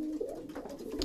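Breeding pigeons give a soft, low, throaty coo, one brief rolling call heard up close and on its own.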